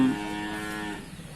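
A young bull or heifer gives a single drawn-out moo at a northern Thai cattle and buffalo market in Nan, loud and close, fading into soft background noise.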